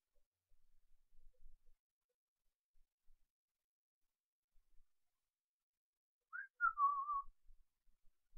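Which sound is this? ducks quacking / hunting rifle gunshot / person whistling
person whistling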